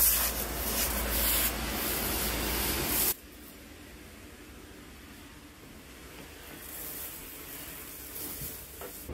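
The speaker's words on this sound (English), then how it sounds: "I like to pre-spray the entire carpet before I bring my equipment in" A pre-spray sprayer mists carpet before steam cleaning, making a loud continuous hiss for about three seconds that cuts off abruptly, leaving quiet room noise.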